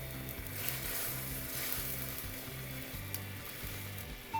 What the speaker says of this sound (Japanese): 水を加えて強火にしてズッキーニに火を入れていきます。